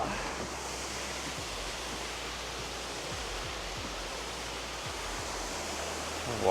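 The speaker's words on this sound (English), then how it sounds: "Gonna make our way closer to the falls here." A waterfall rushes near a wooden bridge on a hike, giving a steady, full broadband roar that stays even throughout with faint low thumps beneath it.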